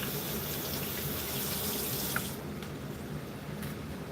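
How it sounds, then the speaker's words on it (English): Water runs steadily from a kitchen tap into a sink while celery is prepared for juicing, a continuous close hiss that softens and drops in level partway through. "Add some unnecessary water."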